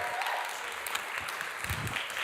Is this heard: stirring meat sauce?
no